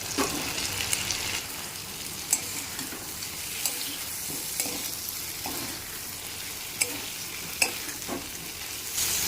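Fried potatoes and figs being stir-fried with chicken in a pan, a steady broadband sizzle with repeated scraping stirs and small clanks throughout, close and moderately loud with no talk.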